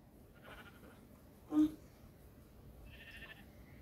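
Sheep in a flat-world video game give faint, brief synthetic bleats, one early and one near the end, under quiet background noise with a short knock in between.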